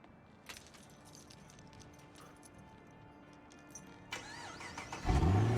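A Lamborghini in Quantum Break roars to life near the end, a sharp loud ignition burst and rising engine rumble following a few seconds of quieter ambient game sound.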